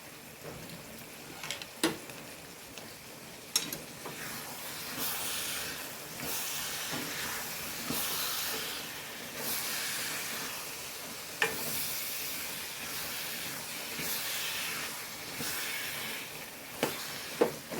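Special pickle cooking in a pan and being stirred, a soft continuous sizzle and hiss with occasional faint scraping clicks, low and steady throughout.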